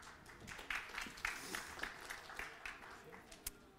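An audience at a research talk event applauds a speaker. The clapping is faint and distant, scattered and uneven, with a few sharper claps standing out before it thins away.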